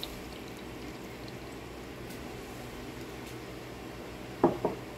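Boiling water is poured over a tray of Greek stuffed vegetables dressed with olive oil, a soft, steady splashing trickle, faint and close, ending in a couple of sharp knocks of the dish or cup.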